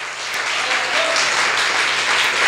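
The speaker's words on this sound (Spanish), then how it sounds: "Dale un fuerte aplauso al Señor en esta noche." Loud, dense applause from a church congregation praising the Lord during an evening service, a steady unbroken wash of clapping with no voices heard.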